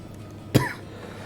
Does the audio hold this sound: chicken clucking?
no